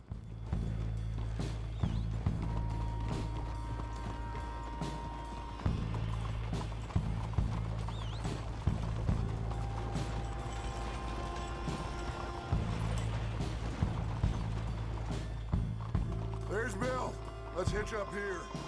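Several horses clip-clop at an easy walk through a town in Red Dead Redemption 2, hooves steady and close, with a long low drone and occasional voices in the background.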